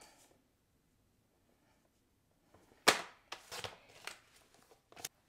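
Card stock being cut into squares for handmade greeting cards, a few sharp crisp snips and scrapes near the mic after a quiet start, with scattered small handling clicks.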